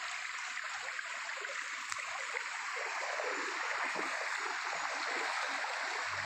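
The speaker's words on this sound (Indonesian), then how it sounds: "Woi, sudah melebar sungainya. Jadi di pinggir-pinggir digerus air sungai." River water flows along a widened, eroded bank beside former rice fields, making a steady, broad rushing and gurgling that stays even throughout with no voices.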